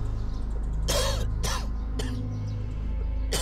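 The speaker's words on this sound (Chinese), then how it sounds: "脑子受伤引发的咳嗽" A man with a head injury coughs four times in sharp, harsh bursts that are spaced apart, close up over a steady low background hum.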